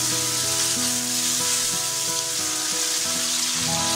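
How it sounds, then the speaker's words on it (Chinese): Tomatoes stir-frying in hot oil in a wok, a loud continuous sizzle with faint scraping of the spatula running under it, close and without talk. "加入番茄翻炒出汁"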